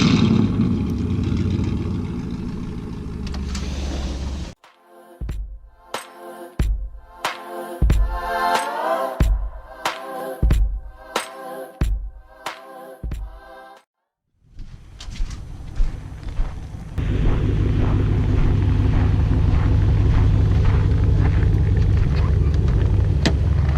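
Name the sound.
2007 Pontiac Grand Prix GXP V8 driving in snow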